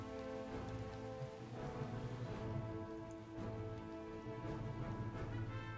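Steady rain in the Empire Total War video game, a dense patter of drops on surfaces running constantly under a low droning game soundscape, with no voices heard.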